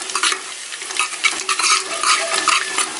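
Cumin seeds and dried fenugreek leaves fry in a ladle of hot oil for a tarri-style potato curry, giving a steady, close crackling sizzle with small spitting pops throughout and no voices.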